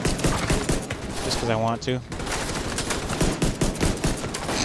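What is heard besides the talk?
pistol gunfire in video game The Division 2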